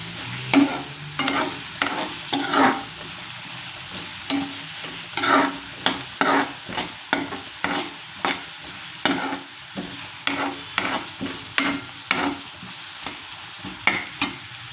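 Repeated stirring scrapes in a frying pan over a steady sizzle as onions are sautéed until browned, the spoon striking in an irregular rhythm close by with no talking.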